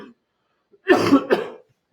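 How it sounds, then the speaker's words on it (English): A person coughs twice in quick succession, close and fairly loud, after a brief faint sound and near silence, with no talking. "I'm so sorry about my coughing."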